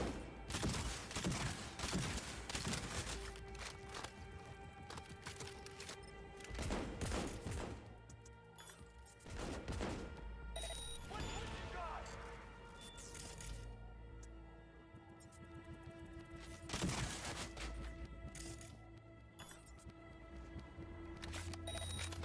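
Bursts of gunfire in Cyberpunk, some clustered and some spread out, with sharp loud volleys separated by quieter stretches of lingering noise and distant thuds.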